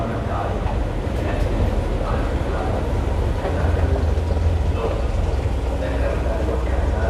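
A train at an underground metro station in Bangkok gives a steady, loud rumble with faint rail clatter that fills the whole stretch, and no voices stand out over it.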